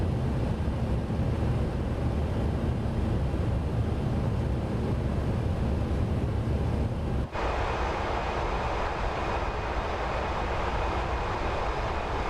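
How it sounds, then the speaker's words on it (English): The McDonnell Douglas MD-11's jet engines in Microsoft Flight Simulator 2024 give a steady, loud broadband roar. The tone shifts abruptly partway through, then continues at a constant level with no talk. "Oh, you can finally hear the engines."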